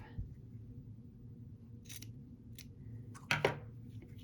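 Scissors snip a few times at close range, with two quick crisp cuts near the end over a low room hum.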